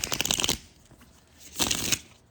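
Thick oracle cards being shuffled in two close, loud bursts of riffling and flapping, separated by a quiet pause with light handling.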